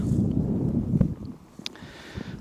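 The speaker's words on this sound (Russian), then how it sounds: "Ветер северный дует, такой холодный." Steady low rumble of a cold north wind buffets the microphone throughout while fishing on a river, with a few faint knocks and clicks on top.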